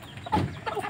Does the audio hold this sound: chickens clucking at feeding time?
yes